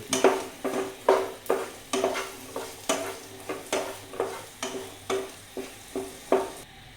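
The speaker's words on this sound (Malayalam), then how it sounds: "അപ്പോൾ ഈ ഉള്ളിയൊക്കെ ആയിട്ട് ഇതൊന്ന് മിക്സ് ചെയ്തിട്ട്" Chopped okra and onions are stirred in a pan, with about a dozen regular scraping strokes of a spoon over a light, steady sizzle, close up and without speech.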